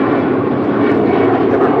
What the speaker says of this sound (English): This is the MGM Mirage Embraer 190 headed back to Vegas.